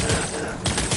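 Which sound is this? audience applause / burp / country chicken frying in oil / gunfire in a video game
gunfire in a video game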